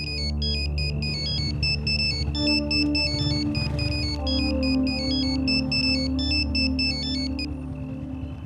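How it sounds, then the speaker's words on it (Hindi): A phone ringtone plays a repeating electronic melody of bright, looping beeps over a steady tonal backing, loud and continuous with no voices. "टोनी का फोन आया था, कुछ अजीब सी बातें कर रहा था।"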